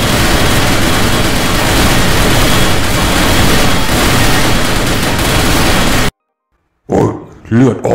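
Sustained, dense gunfire in Garry's Mod, fired in a bullet-resistance test, roars for several seconds, cuts off abruptly into silence, then a voice speaks briefly.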